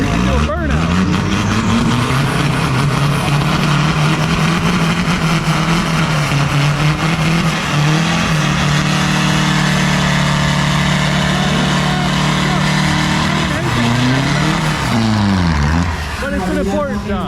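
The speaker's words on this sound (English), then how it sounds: "He's holding it so he can do a burnout." A truck held on its brakes for a burnout roars with a loud, sustained engine drone. The pitch climbs and dips in long revving sweeps, with a sharper rise-and-fall surge near the end.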